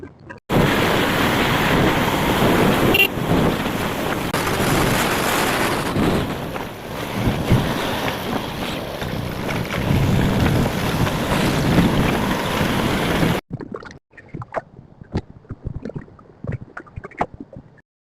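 A motorbike rides along a sandy village road toward a farm tubewell, with a steady roar of wind and engine rushing past the microphone for most of the stretch before it cuts to quieter, sparse clicks and taps.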